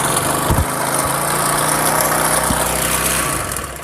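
Honda CD70 motorcycle engine idling steadily just after starting, with a suspected connecting-rod problem; the close, even putter holds throughout, with a couple of brief knocks early on and no talking.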